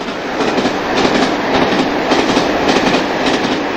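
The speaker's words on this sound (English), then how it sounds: "Later that month, the same loco at Clay Cross, passing the product of Toton Yard" A Peak-class diesel locomotive hauls a freight train out of Toton Yard past Clay Cross on the Midland main line, its continuous loud rumble and wheel clatter filling the whole stretch with no voices.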